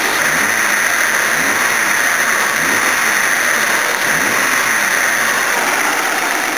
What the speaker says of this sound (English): And I'm revving it a little harder than I did yesterday too.